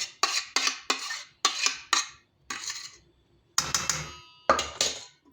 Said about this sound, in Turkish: Şimdi kıvam alan nişastamızı içine aktarıyorum.